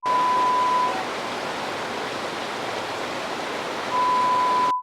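A waterfall in a Colorado park, held back by a small dam, pours as a steady, dense rushing roar heard up close for several seconds without any voices.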